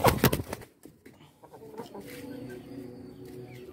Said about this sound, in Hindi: वो मुर्गा दोस्तों वहाँ से आया है और यहाँ बाड़ में फंस चुका है